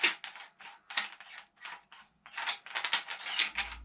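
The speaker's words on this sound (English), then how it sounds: "it's got this cool fluted barrel shroud, which you can just simply unscrew." Someone unscrews the fluted barrel shroud on a Rock Island VR80 shotgun, producing close, rhythmic metallic rasps and scrapes in short bursts of threaded metal turning against metal, with brief pauses between them.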